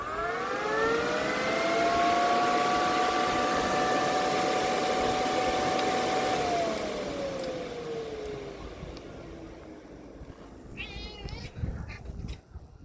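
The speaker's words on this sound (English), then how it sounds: "the fan will come on" An electric radiator cooling fan on a London Taxi spins up with a rising whirring hum, holds steady, then winds down in pitch and fades, leaving quieter clatter at the end.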